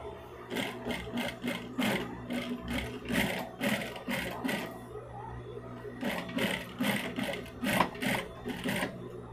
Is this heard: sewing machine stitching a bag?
yes